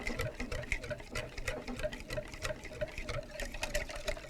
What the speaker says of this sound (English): So whisk your solution, making sure that you scrape the sides and the bottom of the bowl